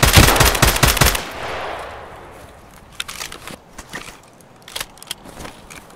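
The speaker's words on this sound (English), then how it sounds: "Everybody knows what unsuppressed M4 sounds like" Unsuppressed M4A1 rifle gunfire in Escape From Tarkov: a loud, close burst of rapid shots in the first second, with echoing decay and a few scattered faint clicks and thuds afterward.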